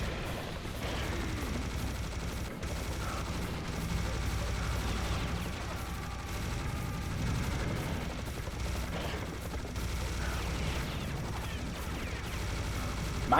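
Heavy cannon fire and steady battle noise from the Serious Sam HD: The First Encounter video game, dense and loud throughout with repeated booming shots blending into continuous gunfire and explosions.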